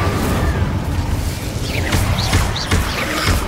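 Fire spell blasts cast over and over in the Hogwarts Legacy video game, with several bursts and whooshing flares laid over a dense, steady rumble of combat noise.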